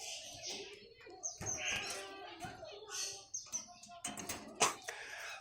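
A male diamond dove kept in a window cage beside a busy road gives a run of repeated soft calls and chirps at close range, mixed with faint background clatter and a low voice.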